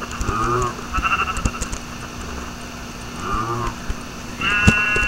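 Video-game sheep bleat in a few separate calls, one near the start, another midway and a longer one at the end, over a steady game ambience with a low hum.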